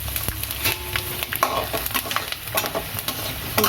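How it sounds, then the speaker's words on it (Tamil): Peppercorns and whole spices fry in plenty of hot oil for a tamarind-based vatha kuzhambu, a bright, crackling sizzle broken by frequent spoon scrapes and taps close by. No one speaks. "நம்மளுக்கு எண்ணெய் காஞ்சிடுச்சு, அதனால் இதெல்லாம் கொஞ்சம் பொரித்து எடுத்துப்போம்."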